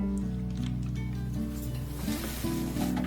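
Milk simmering and thickening in a pot over a medium-to-high gas flame, a steady close bubbling sizzle with a low continuous hum beneath it, unbroken throughout.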